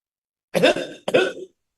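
Two short, harsh coughs close together, near and moderately loud, with silence before and after.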